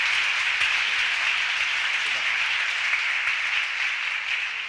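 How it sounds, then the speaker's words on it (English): A crowd of educators at a school convocation applauds in a large room, steady, dense clapping that stays loud throughout before tapering slightly at the end. "Now at this moment, I'll take a hand clap."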